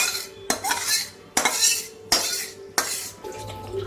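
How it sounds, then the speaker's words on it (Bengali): A metal spoon scrapes and clanks against a pan as masala paneer is poured out, four sharp, close clatters at an even pace with a soft rattle between them. "এবার আমি পনির রেসিপিটা ঢেলে নেব"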